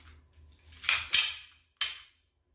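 A reassembled Bruni 96 blank pistol being dry-fired to test its mechanism gives three sharp metallic snaps and clacks, two close together and one a moment later, near and loud in a quiet room.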